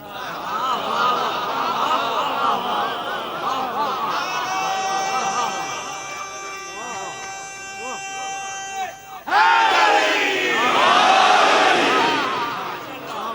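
A crowd at a religious majlis gathering in Lahore chants passionate slogans together, loud sustained massed voices with a rising surge of shouting near the end.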